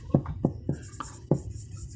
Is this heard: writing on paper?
yes